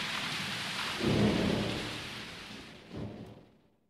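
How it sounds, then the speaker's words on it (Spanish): Rain pours steadily while thunder rumbles in, swells, then a second roll follows before the storm noise fades away. "Esta noche tiene lugar una terrible tormenta. Está lloviendo."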